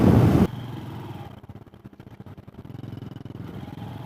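A Honda Super Cub motorcycle downshifts from fourth gear on a moto-camping ride: a loud burst at the start, then the small engine settles into a quieter, pulsing, throbbing beat under engine braking.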